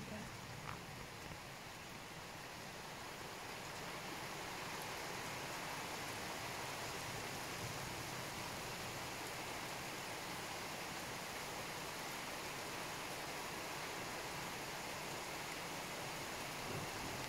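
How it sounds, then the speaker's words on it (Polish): Heavy rain during a storm pours as a steady, dense broadband hiss that stays continuous and loud throughout, with no distinct thunder claps. "Masakra z tym deszczem."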